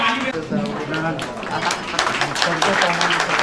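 Applause from an audience welcoming a guest, many hands clapping in a steady wash while someone speaks over it through the whole stretch.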